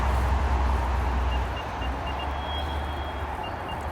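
An Apple AirTag plays its sound alert while lying somewhere in a dense Alaskan forest. Faint, evenly spaced high beeps repeat in a series over a low rumble of passing cars.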